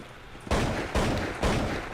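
Gunfire in the video game Counter-Strike 1.6 during a multiplayer match, three loud sharp shots spaced about half a second apart, each followed by a short decaying echo.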